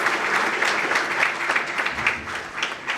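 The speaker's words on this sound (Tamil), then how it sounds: "ஒரு பலத்த கைத்தட்டல்" Loud, sustained audience clapping at a Tamil motivational speech event, dense and even throughout with no voices over it.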